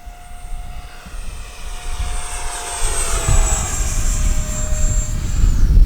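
Arrows RC Sabre F-86 64mm electric ducted-fan model jet screaming past at speed, a steady high whine that shifts pitch as it flies by over constant outdoor wind noise, growing louder toward the end.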